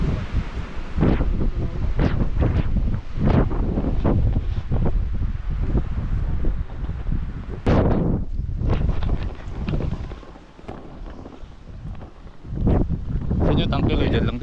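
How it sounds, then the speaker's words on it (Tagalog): Strong wind buffets the microphone on a motorcycle ride from Pangasinan to Santa Fe, Nueva Vizcaya, a loud continuous roar with gusty surges that almost drowns a rider's voice. "Parang di kakayanin ng lakas ng hangin."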